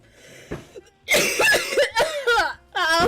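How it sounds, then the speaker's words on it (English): Harsh, repeated coughing comes from one person, a short cough followed by several loud, raspy bursts in quick succession, with throat-clearing sounds, close and alone. "I can't stop coughing."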